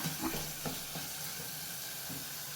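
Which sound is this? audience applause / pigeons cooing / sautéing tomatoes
sautéing tomatoes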